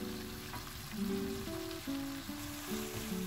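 Prawns and potatoes sizzle steadily in a pan for black pepper prawns, with soft scraping of a spoon stirring through the mix and no voices.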